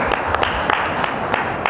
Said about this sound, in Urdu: تالیاں ہونی چاہیے